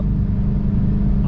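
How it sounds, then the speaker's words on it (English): A semi truck comes up along a highway, heard as a loud, steady low rumble of heavy road traffic and engine noise right up close, continuous for the whole moment. "There's a semi coming up there."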